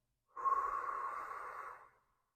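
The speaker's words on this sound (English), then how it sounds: "That is a very relaxing breath." A single long exhale in Sheetali cooling-breath pranayama, a soft, steady airy breath lasting nearly two seconds, close and quiet, with no talking.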